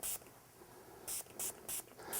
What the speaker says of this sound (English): we're going to spray it down with the cleaner